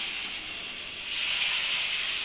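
Water rinsed from a blender jar is poured into hot fried spice paste with garam masala for a rohu fish kalia, setting off a loud, steady steam hiss that swells halfway through and keeps going with no voices.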